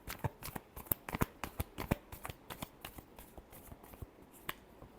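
Tarot cards are shuffled in a final shuffle, producing a series of sharp, quick riffling snaps in irregular bursts, close and fairly soft.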